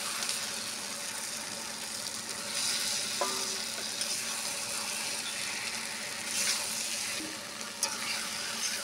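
Fried spice paste in oil sizzles with unripe jackfruit, potato and prawns just added to the pan, a constant close hiss broken by occasional stirring scrapes, with no talk.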